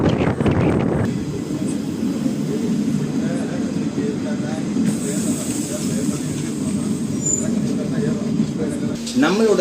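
Madurai-Punalur Express pulling away from Tirumangalam station, a steady low rumble of rolling wheels and carriage noise with hiss, continuous and fairly loud throughout.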